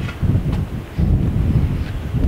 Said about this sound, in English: It's very cold up here. Very, very windy.